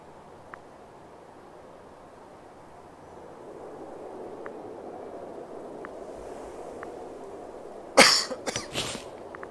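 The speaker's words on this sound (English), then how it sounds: "We don't need anyone coughing the mic." A person coughs once, loud and close, into a microphone near the end, a short cluster of sharp bursts after several quiet seconds of low background hiss.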